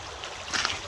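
Creek water runs through a gold sluice set in a streambed, giving a close, steady rush with a brief brighter splash near the end.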